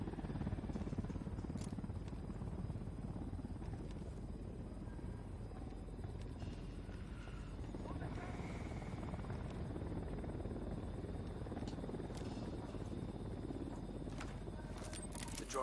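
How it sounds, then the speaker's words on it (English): Helicopter in the video game Ghost Recon Wildlands, a steady dense rotor and engine rumble that holds loud and unbroken throughout with no pauses. "Hit the dirt, helicopter."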